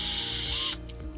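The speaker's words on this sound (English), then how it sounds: "we'll run the screw down, and that'll create the threads in there" A screw is run into the plastic body mount of an Arrma Kraton XL RC truck, cutting its own threads: a dense, loud grinding whir that stops abruptly partway, followed by faint clicks.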